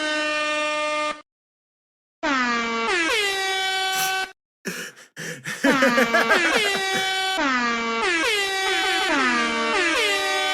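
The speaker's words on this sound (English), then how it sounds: "Taps with an air horn goes hard." Taps is played on a loud air horn in long sustained blasts with bending pitch, broken by brief silences, and a few rougher, choppier honks mid-way.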